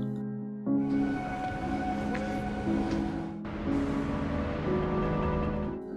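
A train rumbles steadily with a droning hum and metallic tonal whine, a brief lull then the roar resuming, continuous and fairly loud.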